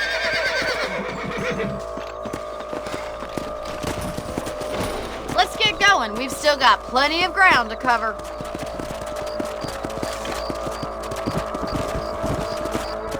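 Horses whinny in the Western video game Red Dead Redemption, a cluster of neighs rising in the middle with faint hoof clip-clops beneath, while a character talks over steady ambient background.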